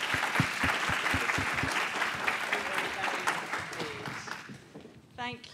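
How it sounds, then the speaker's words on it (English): An audience applauds a panel at a conference on monitoring sustainable development goals. Some distinct close claps at first turn into a steady crowd clapping that fades, with someone speaking over the tail end. "A big round of applause for the panel,"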